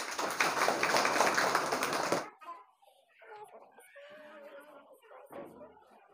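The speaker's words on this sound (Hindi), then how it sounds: "तालियां।" A short burst of group clapping for a student in a maths class lasts about two seconds, then cuts off into quieter talking and small background sounds.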